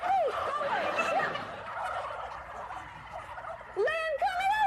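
Wild turkeys gobble loudly and close by in rapid warbling bursts, with a second round of gobbles near the end and a noisy commotion between them.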